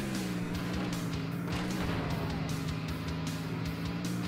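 A car in the zombie-smashing video game Earn to Die 2, a continuous droning engine hum with repeated thumps and bursts over it, steady and fairly quiet throughout.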